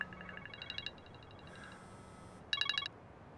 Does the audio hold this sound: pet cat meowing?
no